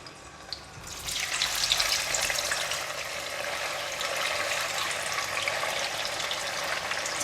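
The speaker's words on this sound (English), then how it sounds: "Just going to deep fry it for a couple of minutes." Firm tofu deep-frying in hot oil in a pan gives a loud, steady, close sizzle that swells after the first second and holds dense and crackling throughout, with no talking.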